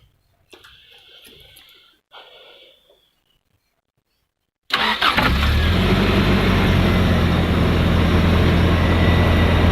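A few faint clicks and mechanical sounds, then a Toyota van engine cranks and catches, settling into a steady, loud idle nearby.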